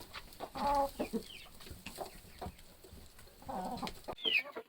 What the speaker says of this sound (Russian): Вот петухи у меня здесь сидят.